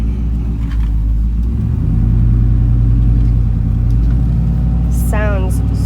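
A 1996 Chevrolet Silverado GMT400 pickup with an automatic transmission runs close by, its engine giving a loud, steady low rumble that swells slightly partway through, with a brief high chirp near the end.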